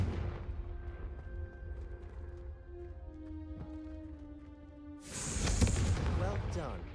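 A Confringo fire spell detonates in the Hogwarts Legacy game at about five seconds, a loud broadband blast following a stretch of game music, with a voice speaking over it.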